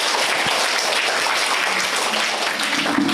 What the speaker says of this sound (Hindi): सभी तालियां बजाएंगे।